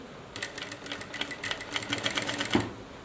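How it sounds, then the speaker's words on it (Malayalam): An ordinary domestic sewing machine stitches through folded fabric for a circle umbrella dress. It runs in a steady, rapid mechanical chatter for a couple of seconds, up close and with no talk. "ഇതൊന്നുകൂടി ഇങ്ങനെ മടക്കി ഞാൻ ഒന്നുകൂടി സ്റ്റിച്ച് ചെയ്ത് കാണിക്കാമേ"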